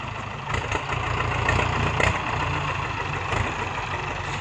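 A Ford 6610 tractor with a grab loader idles while cassava is loaded, its low diesel drone holding steady, with a few brief knocks and clatters of work noise over the top and no speech.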